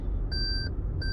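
Warning chime from a Lexus GS350 with its trunk open, two steady electronic beeps repeating at a regular pace over low road and engine rumble inside the car.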